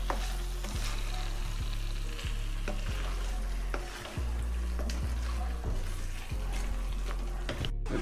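Chicken ghee roast sizzles in a pan while a utensil scrapes and stirs it in regular repeated strokes, with a close, loud crackle throughout and no talking.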